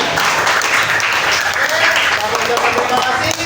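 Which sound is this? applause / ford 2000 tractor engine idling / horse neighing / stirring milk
applause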